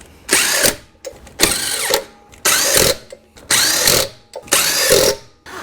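Five short bursts from a power tool tightening new black lug nuts on a 1997 Cobra, each a loud rattling whir of about a second with brief pauses between, close by.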